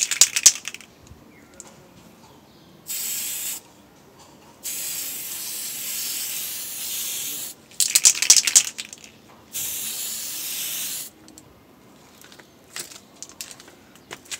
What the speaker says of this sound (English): I'll spray them from side to side.